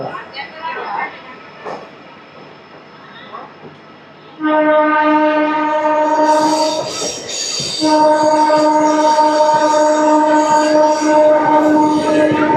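A MEMU passenger train running from Vijayawada to Machilipatnam, heard from on board: a steady loud rumble of rail travel, joined midway by a long sustained two-tone train horn, with faint talk early on.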